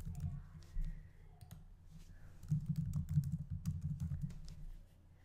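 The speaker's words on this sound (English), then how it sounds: "I'll type in video message." Typing on a computer keyboard: a quick, irregular run of soft key clicks, close and moderately quiet, with a low room hum underneath.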